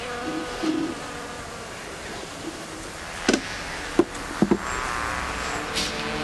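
Bees at the hive, a constant buzzing drone close by, with a few sharp knocks and taps breaking through near the middle.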